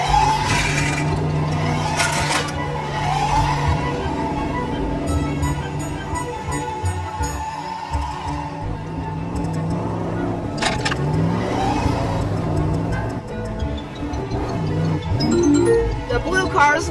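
Toy race cars run along a slippery platform in a busy, loud scene with whirring motors and clattering plastic, while a narrator talks over the action throughout.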